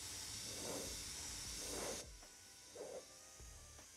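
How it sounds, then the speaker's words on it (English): A siphon-feed airbrush sprays paint onto a printed prop hammer, giving a steady close hiss that runs for about two seconds, then drops away, with a short burst near the end. "new airbrush I got is a siphon instead of a gravity"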